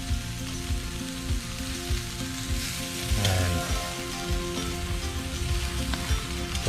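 Kangaroo steak sizzles steadily in a hot pan, a dense close crackle and hiss that keeps going, with faint scraping and a brief louder flare midway.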